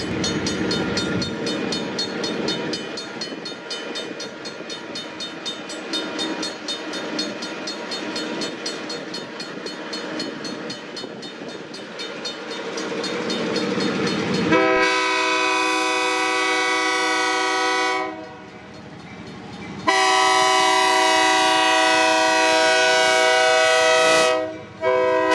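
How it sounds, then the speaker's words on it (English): Morristown & Erie freight led by GP15 diesel locomotive 124 climbing a steep grade eastbound out of Whippany, engine laboring loudly and close, then long blasts of its multi-tone horn with a brief gap between them. "headed eastbound out of Whippany with GP 15-124 in the lead as it climbs the steep grade up to Troy Hills Road"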